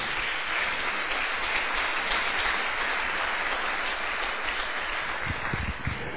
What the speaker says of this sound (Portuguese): Então pode dar uma outra salva de palmas para o Senhor